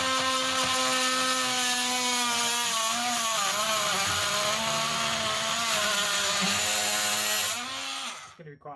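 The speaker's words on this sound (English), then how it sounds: "all I use to cut thermalites is like a blunt multi-tool blade" A blunt oscillating multi-tool blade cuts a soft thermalite block with a steady, loud buzzing drone that holds for about seven seconds, then stops abruptly.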